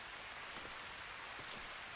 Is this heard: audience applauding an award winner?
no